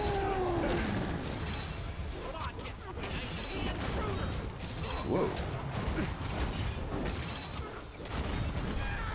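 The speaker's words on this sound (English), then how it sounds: "I was wondering where those explosions were coming from. I didn't see that the archer was explosive." Explosive archer blasts in the game Orcs Must Die Unchained, with repeated crashing booms and mechanical clatter running through a busy mix as a voice exclaims briefly.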